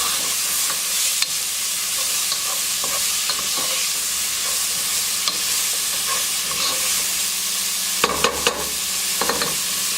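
Ingredients cook in a pot for vegan dumpling soup, sizzling and frying steadily with a constant hiss, occasional stirring scrapes and a cluster of utensil clinks near the end.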